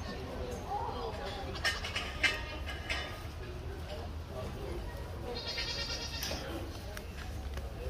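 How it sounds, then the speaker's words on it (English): Goats bleat intermittently at a district fair goat show, several calls rising over a steady crowd murmur and a voice speaking over a loudspeaker, all moderately distant. "my champion goat today is going to be out of the fourth class, the young lady's goat"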